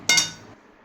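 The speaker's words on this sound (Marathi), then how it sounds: "त्यानंतर परत कढईमध्ये बदाम टाकायच्या." A quick clatter of almonds hitting a metal kadhai, a bright clinking burst that rings briefly and fades.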